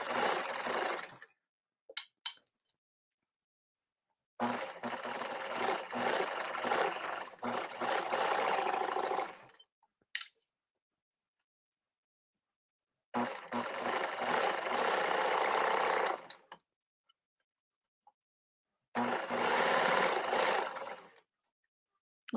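A sewing machine stitches a tiny zigzag on lace, giving four close bursts of rapid mechanical whirring and clatter a few seconds long, separated by silent pauses.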